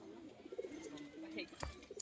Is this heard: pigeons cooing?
yes